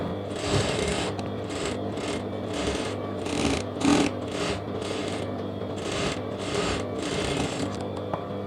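A sewing machine stitches a lehenga blouse sleeve with lining at the edge, a steady mechanical whirr broken by short pauses into a series of even runs, close and moderately loud.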